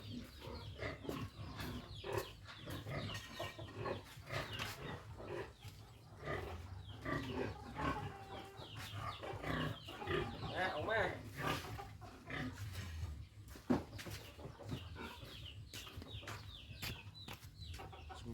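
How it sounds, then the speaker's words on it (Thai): Chickens cluck and squawk continuously as they leave a coop on a farm, a busy flock close by with people talking over the noise. "ไก่อยากออกเลยพี่องเลย"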